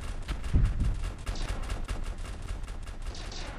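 A soldier-class frigate's weapons fire in the space strategy game StarDrive II, a rapid fusillade of synthetic gunfire bursts with a heavier low thud early on, continuing steadily at moderate loudness without speech.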